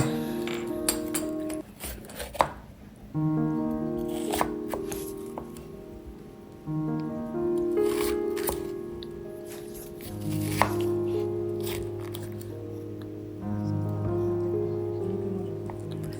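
Red bell pepper being sliced with a knife on a board: a run of sharp, irregular chopping taps, close and fairly loud, over a steady background hum with some clinks.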